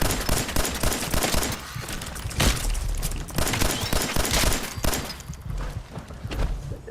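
Sustained bursts of automatic gunfire in Fallout 4, rapid overlapping shots with dull thuds, loud and continuous across the whole stretch with no pauses.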